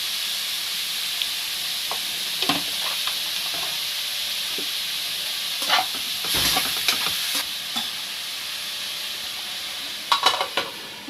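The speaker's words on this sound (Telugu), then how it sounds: "ఒక 5 మినిట్స్ అయితే ఉల్లిపాయ బ్రౌన్ కలర్ వచ్చే వరకు మగ్గిపోద్ది కదండి." Onions sautéing with salt in a pan for a Telugu curry, giving a steady soft sizzle broken by occasional stirring clinks and scrapes, with no talking.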